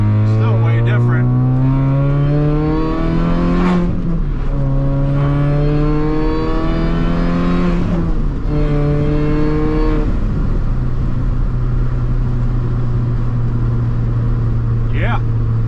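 An R53 Mini Cooper fitted with a sprint booster accelerates hard, its engine note loud and up close, climbing through several gears with a drop in pitch at each shift before holding a steady drone.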